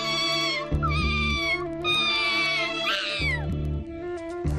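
Cartoon kitten mewing over bright background music, several plaintive high meows in a row, a few of them rising and bending. The meows are loud and close, with no talking.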